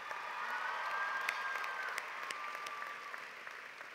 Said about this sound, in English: I hope that my classmates will join me in a round of applause for your tireless efforts